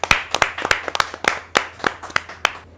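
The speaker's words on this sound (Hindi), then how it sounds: "आप जोरदार तालियों से उनका स्वागत करें" Clapping to welcome a poet at a Hindi kavi sammelan poetry gathering: a handful of sharp, close claps in an uneven rhythm, about a dozen distinct hand strikes over a few seconds from a small group.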